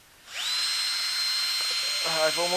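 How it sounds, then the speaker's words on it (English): A power drill whines steadily at close range as it drills out spoke nipples on the rear rim of a KTM 1190 Adventure R motorcycle, and the pitch dips briefly near the end. "drill the nipple out"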